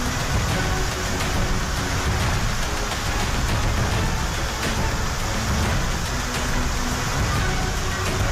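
Steady rain falls continuously in a broad hiss, fairly loud and even throughout, with faint low rumble beneath and no voices.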